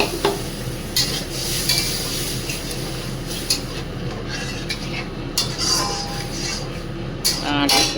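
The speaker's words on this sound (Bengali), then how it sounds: "দুধটা দিয়ে আমি এবার নাড়বো" Semolina being stirred with milk in a pan for sooji barfi, a steady scraping stir with faint sizzling and occasional utensil clinks against the pan, close and continuous.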